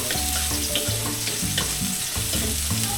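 Onion and garlic frying in a pan for sotanghon, a loud continuous sizzle with stirring scrapes throughout and no talking.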